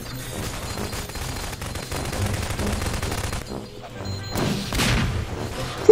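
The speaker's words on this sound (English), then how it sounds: "Who just detonated the office?" An office blown up in Garry's Mod, heard as dense rapid blasts and crashing booms, loud and continuous with a rising final burst near the end.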